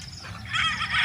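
A brief cluck from a Boston hen on a game farm, short and fairly close, with a faint background murmur.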